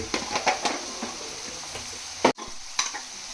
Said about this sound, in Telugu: ఆనియన్స్ వేగిపోయినాయి